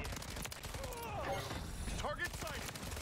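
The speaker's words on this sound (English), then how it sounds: "Who's shooting at me right now?" Gunfire in the Modern Warfare 3 video game, with a TAQ Eradicator light machine gun in play: a rapid, dense rattle of shots running through the whole moment, close and loud, as players talk over it.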